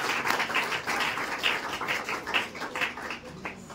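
An audience at a student merit award ceremony claps for a teacher, a dense, moderately distant round of applause that carries on steadily and tapers slightly toward the end.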